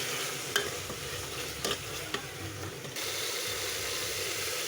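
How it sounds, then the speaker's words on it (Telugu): Ginger garlic paste being stirred into softened tomatoes in hot oil for chicken curry, giving a steady close sizzle with a few sharp scrapes of the spoon against the pan. "అల్లం వెల్లుల్లి పేస్ట్ వేసుకొని కలుపుకుందాం"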